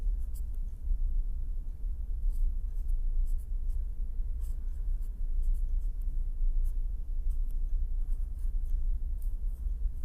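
Chalk or pen writing out equations at a board during an engineering lecture on beam vibration, a steady run of faint scratchy strokes with brief taps, heard continuously over a low room hum.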